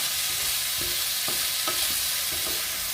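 Shrimp and garlic stir-fried with salt and chili in a pan, a steady hiss of sizzling oil with a handful of sharp spatula scrapes and clacks spaced through it, close and with no voices.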